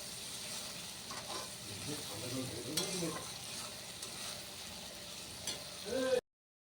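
Spice paste of ground ginger, garlic, dried red chilli and tomato sautéing in a pan for catla fish kalia, a steady close sizzle with occasional scraping stirs, swelling briefly near the end before cutting off abruptly.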